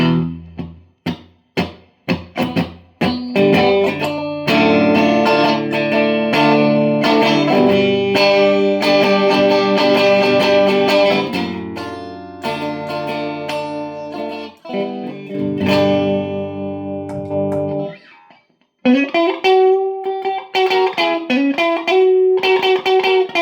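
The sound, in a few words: Fender Jag-Stang electric guitar with compression and distortion tones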